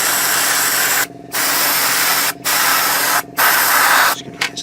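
Spray painting a Takom 1/35 scale Chieftain Mk10 tank model, with loud, close airbrush hissing in four long bursts broken by short silent pauses.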